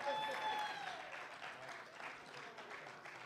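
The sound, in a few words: audience applause for performers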